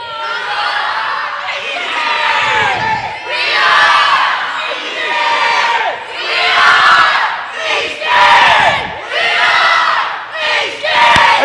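Loud shouting during a church service as a bishop is urged to raise his voice; repeated strong vocal bursts about every second or two, close and forceful, with crowd cheering and laughter mixed in.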